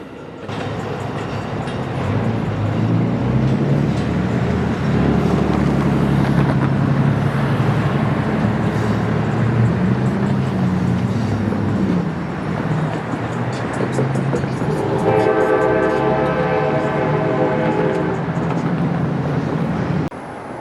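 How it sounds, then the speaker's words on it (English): Amtrak's Silver Meteor passenger train, hauled by a single P40 diesel locomotive, passes in Tampa, Florida. A loud, sustained rumble of engine and rolling cars fills the scene, with a bright horn-like tonal blast rising partway through. "So this train has a full silver meteor consist and, interestingly, a single P40 DC pulling."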